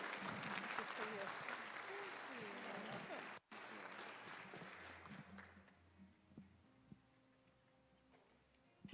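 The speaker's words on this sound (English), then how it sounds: "Can we give them another round of applause?" Audience applause at a health conference, a full round that fades to scattered claps and then quiet room noise, with talk mixed in faintly.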